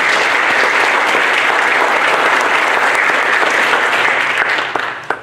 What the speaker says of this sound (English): If we can just give a round of applause for the campus.